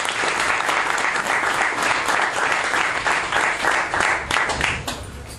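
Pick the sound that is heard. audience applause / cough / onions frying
audience applause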